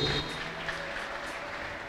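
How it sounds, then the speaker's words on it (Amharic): A church congregation claps together at a deliverance service, broadband applause steady through the whole moment with faint voices mixed underneath. "ጭብጨባ ለኢየሱስ ክብር።"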